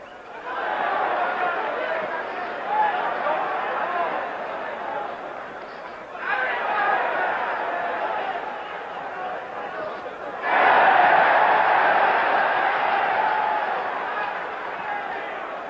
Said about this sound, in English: Hear the chant, Bouttier, Bouttier, Bouttier.